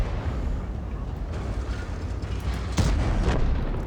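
Tank cannon fire in World of Tanks, a deep rumbling boom rising partway through over a constant heavy engine and battle roar.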